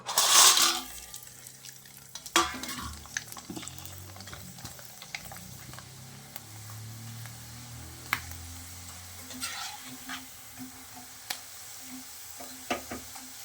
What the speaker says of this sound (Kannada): ಇವಾಗ ಇದನ್ನು ಎಣ್ಣೆಯಲ್ಲಿ ಕರಿತೇವೆ